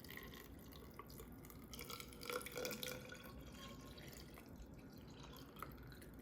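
Water is poured into a glass with lemon and aloe gel for an aloe drink, producing a faint trickle with soft drips and gurgles, quiet and close, without talk.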